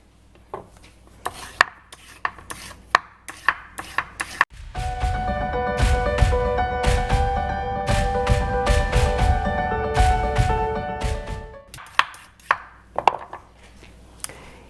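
Carrots being peeled for a beef stew dog food: quick rhythmic scraping strokes come close and clear at the start and again near the end, with a sustained ringing, tonal stretch in between.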